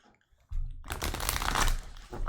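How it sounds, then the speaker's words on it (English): A tarot card deck is shuffled close by in a quiet room, a short quiet lead-in followed by a dense burst of crisp riffling and clicking cards lasting under two seconds. "That is an excellent shuffle."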